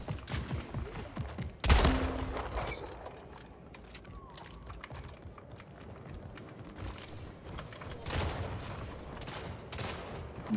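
Shotgun blasts in the arena shooter Splitgate, a few sharp, separated shots with one loud close blast early and another later, over faint mechanical clicks and game background noise, no speech.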